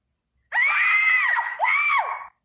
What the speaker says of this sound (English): There's definitely something authentic and quite terrifying about the way these 2 girls scream.